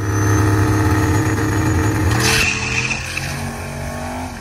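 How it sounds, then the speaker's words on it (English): A loud turbocharged Mustang drag car engine roars steadily in the burnout box, then a hissing squeal of spinning tires swells briefly in a light, short burnout before the engine settles to a lower rumble. "pulls the car into the burnout box and does his first burnout"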